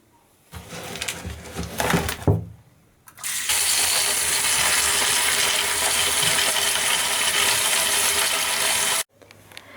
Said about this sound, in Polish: I teraz muszę przepukać wiele razy ten żwirek